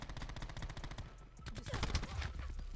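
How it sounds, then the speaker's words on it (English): Rapid bursts of sniper and automatic gunfire from the video game Black Ops 4, dense repeated cracks running throughout, loud and close, with a short lull before heavier shots resume. "He's about to get sniped in 3-2-1"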